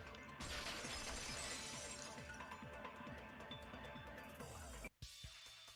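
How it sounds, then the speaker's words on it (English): Glass shatters in the Danganronpa 2: Goodbye Despair video game, a dense crash followed by a long tinkling spray of falling shards, then a brief dropout and a few final clinks. "the girls heard the sound of the window shattering"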